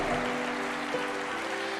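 A church congregation applauds steadily and densely, a continuous wash of clapping from many hands that holds at an even level throughout, with no talk over it.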